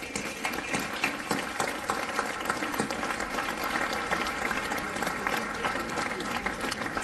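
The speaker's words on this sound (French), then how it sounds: "s'il vous plaît, de les applaudir tous" Crowd applause at an outdoor memorial tribute in Strasbourg, a dense, steady clatter of clapping hands that holds at even loudness throughout, with some voices mixed in beneath.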